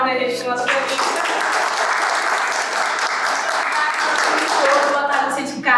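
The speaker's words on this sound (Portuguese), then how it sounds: "Uma salva de palmas, né, gente?" A talk show studio audience breaks into loud, sustained applause, with a voice speaking briefly at the start and again at the very end.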